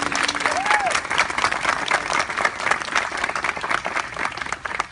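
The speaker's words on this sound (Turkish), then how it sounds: "Lütfen alkış" Wedding guests break into steady applause during the ceremony, a full continuous patter of many hands clapping, with a brief voice near the start.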